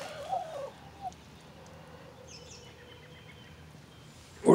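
Two new hens clucking in a backyard chicken coop, a few soft intermittent clucks, quiet and somewhat distant over faint background hiss.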